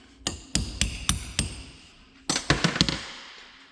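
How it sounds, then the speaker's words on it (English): A hammer strikes a steel punch to drive a joint out of a 1984 Chevrolet K20 farm truck held in a vise. Two runs of sharp metallic blows ring out, five and then four, close and loud. "I'll get them started with the punch."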